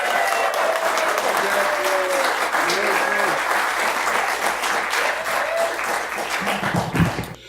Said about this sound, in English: So please give a big, gigantic, and I mean big, Joy Cinema round of applause for Geek Brother #1 himself, Derek Cook.